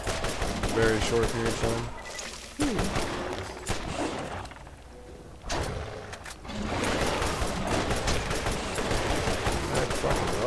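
Rapid gunfire from a gun boosted by the Metal Storm skill in the Borderlands video game, dense crackling bursts with brief pauses, loud and close, with someone talking briefly over it.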